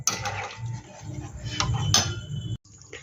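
Metal lid set onto a cooking pot of simmering prawn curry, clattering and clinking against the rim in a short burst before a brief hush, close and fairly loud.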